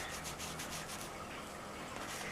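A cloth doll being rubbed with cleaner, a soft continuous scrubbing rasp of fabric against fabric, close and faint with a few rhythmic strokes at the start.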